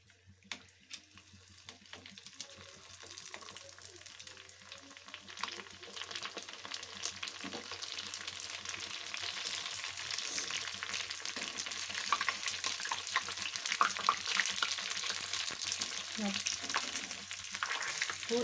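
Masala puri frying in hot oil over high flame, a soft, steady bubbling sizzle that slowly builds in loudness and stays continuous throughout, with occasional faint clicks.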